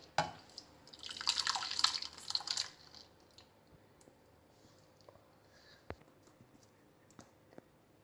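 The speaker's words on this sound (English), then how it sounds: "And pour the mixture to a tray." Watermelon sorbet mixture pours into a tray in a dense liquid splashing burst lasting about two seconds, then trails off into faint scattered drips and light clicks.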